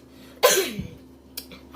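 A single sharp cough close to the microphone while cooking with black pepper seasoning, followed by a brief fainter throat sound.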